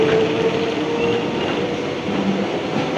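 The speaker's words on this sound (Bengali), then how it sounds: "এই তো ধীরে ধীরে ট্রেন এবার স্পিড নিচ্ছে" A nearly empty Howrah Division local train slowly gathers speed, its steady loud rumble of wheels and carriages filling the space with faint rail squeal and clatter, no voices.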